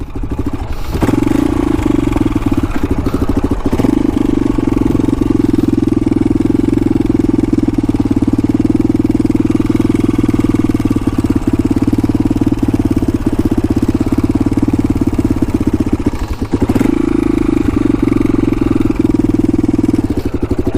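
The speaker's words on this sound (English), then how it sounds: "Idling pretty decent." A 1988 Honda 250X quad idles loudly and steadily for about twenty seconds, a constant low engine drone with clattery mechanical ticks and a couple of brief dips in the running.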